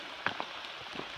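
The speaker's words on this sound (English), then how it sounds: "It's all rainy" Rain falls on the Appalachian Trail along a ridge line, a soft steady patter with a few louder drops striking nearby, heard alone.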